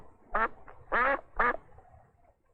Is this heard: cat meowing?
no